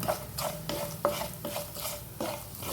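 Urad dal and onion frying in a pan, with a steady sizzle and about seven rhythmic scraping stir strokes, close and clear, with no talk.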